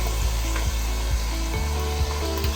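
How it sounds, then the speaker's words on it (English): Mixed masala, ginger, garlic and tomato fry loudly in a pan for spaghetti Bolognaise, a constant sizzle broken by several dull knocks and scrapes of a stirring spoon, no talking. "Let this fry for about 2 minutes"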